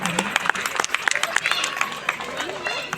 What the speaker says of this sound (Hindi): प्लीज उनका तालियों से स्वागत करें।